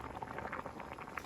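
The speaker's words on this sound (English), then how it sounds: "It's gonna boil for about 2 minutes." Beef liver in a thick flour gravy boiling in a frying pan, a faint, steady bubbling and popping close by with no one talking.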